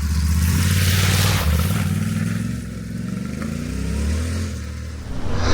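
A 2024 Yamaha Tenere motorcycle ridden off-road, its engine droning steadily up close with shifting revs, loud and continuous with no talk over it.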